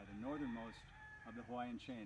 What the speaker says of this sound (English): You can probably hear the roosters in the background.